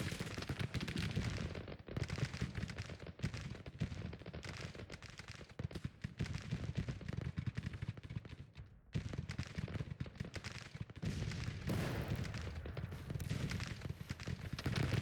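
Civil War era gunfire in the Grand Tactician game, dense crackling volleys and scattered musket shots that roll on almost without pause, a brief lull partway through.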